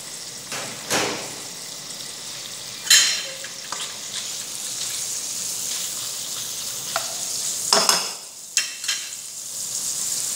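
Meat sizzles in melted butter in a pan while cooking tas kebab, a steady close crackle with a few louder scrapes and stirs in the pan.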